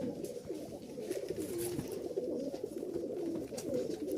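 Domestic high-flying pigeons, a male and female pair with white beaks, coo softly and repeatedly in low, rolling murmurs against a quiet, faintly noisy background.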